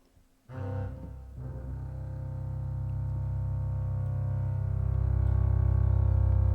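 Low sustained string tones from string basses playing flautando, from the Spitfire Audio Abbey Road library, begin after a short pause and swell gently, holding long, soft, breathy bass notes with a steady hum.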